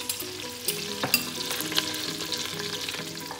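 Dry spices crackle and sizzle in melted butter and oil as a spoon stirs them, a soft steady frying hiss with occasional light scrapes and pops, fairly quiet and close, with no speech.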